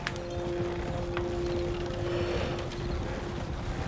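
Stagecoach horses in Red Dead Redemption 2 clop steadily along with rattling coach mechanisms and a faint steady tonal hum, a continuous mid-level rolling rhythm with no one talking.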